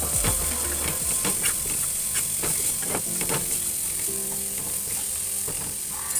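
Brahmi greens frying with turmeric in a pan, a continuous loud sizzle close up with scattered scraping and stirring clicks, no voices.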